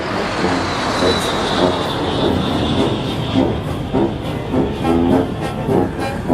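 Puma military helicopters passing overhead in formation at a military parade and presidential swearing-in ceremony, a steady loud rotor and turbine roar with rhythmic blade chop, holding strong throughout with crowd noise faintly underneath.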